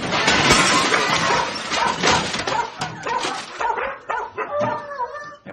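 Film scene with several dogs barking, yipping and whimpering, loud and close in a dense overlapping clamour that thins into higher whines toward the end.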